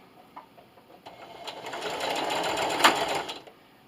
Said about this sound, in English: I'm going to backstitch at the beginning